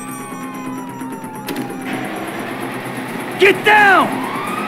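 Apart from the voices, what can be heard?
police siren in Grand Theft Auto 5 video game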